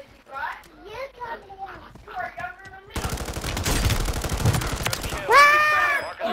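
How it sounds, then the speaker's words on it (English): Machine gun in the Call of Duty video game firing a sustained, dense burst of loud rapid shots, preceded by someone talking excitedly and followed by a raised young voice over the gunfire. "Okay, this is a machine gun."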